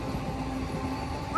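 A train rolls past close by, a steady low rumble and rattle filling the whole moment, with no talking.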